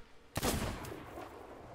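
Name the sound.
sniper rifle shot in Sea of Thieves video game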